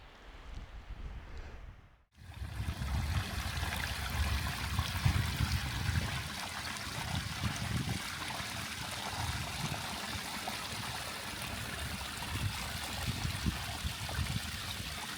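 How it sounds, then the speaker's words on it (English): Yellow Slacks Brook trickling down a moorland valley near Lower Shelf Stones, a steady close rush of flowing water after a short quiet moment near the start, with some wind noise and no talking. "You can actually hear it as it's trickling down, so it's in good flow today."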